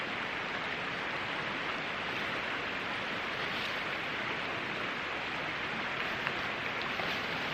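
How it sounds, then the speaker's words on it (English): Steady rain falls in the Australian bush, a dense, even hiss of drops on leaves and ground that continues unbroken and fairly loud throughout, with no voices. "I do love the rain, but it'd be nice if it just held off while I ate my breakfast."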